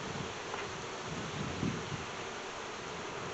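Many bees around a hive being worked drone in a thick, constant buzz close by, with a few faint knocks underneath and no talking.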